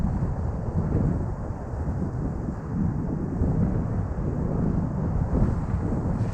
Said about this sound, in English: a big old gust in my face right now